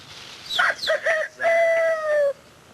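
A rooster crows nearby, a loud clear call with a rising start and a long drawn-out final note.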